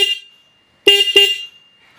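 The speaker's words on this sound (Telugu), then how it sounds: "హార్న్ యొక్క లౌడ్నెస్ అనేది ఒకసారి చెక్ చేద్దాం." A 2025 Husqvarna Svartpilen 401 motorcycle horn sounds loud and near in two quick honks after a brief earlier toot, with no talk over it.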